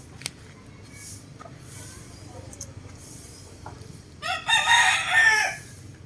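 White Kelso roosters in a backyard yard, with scattered faint clucks and small knocks before one rooster lets out a loud, near crow near the end.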